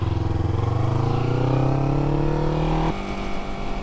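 A Kawasaki Ninja 300 motorcycle accelerates while being ridden, its engine pitch climbing steadily through a gear for nearly three seconds before dropping sharply on a shift, loud and close.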